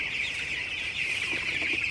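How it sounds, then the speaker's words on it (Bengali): Sixteen-day-old broiler chickens clucking in a farm shed, a dense, continuous chorus of many birds chattering together, close and fairly loud, with no talking. "আমার এই সেটের ব্রয়লার মুরগির বয়স আজকে 16 দিন"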